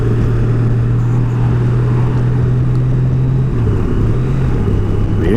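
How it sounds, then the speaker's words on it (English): A 2018 Honda Goldwing engine hums steadily on a test ride, loud and close, with a deep, even drone that shifts in pitch near the end, over wind rumble. "The engine noise is a little deeper"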